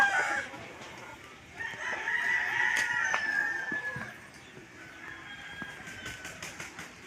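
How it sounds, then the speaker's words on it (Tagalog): Chickens cluck and a rooster crows repeatedly in a noisy yard, several birds calling at once at moderate distance. "Ang daming manok maingay"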